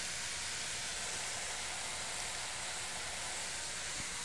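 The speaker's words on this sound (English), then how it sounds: "now we can saute for 2 minutes" Ham, onion and porcini sizzling steadily in a pan for an Italian cream sauce, a constant close hiss with no breaks and no talking.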